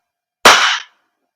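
A single sharp, loud crack from a KJW CZ Shadow 2 airsoft gas blowback pistol fired in single action, followed by a brief hissing decay and then silence.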